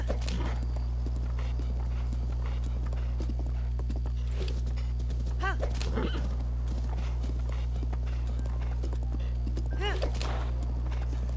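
Hooves clop along at an even walking pace, broken by a couple of whinnies, all over a constant low droning hum, from a horse in the video game Breath of the Wild.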